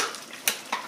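A spoon stirring turkey soup in a pot, two short metallic scrapes against the side, close and soft in a brief moment.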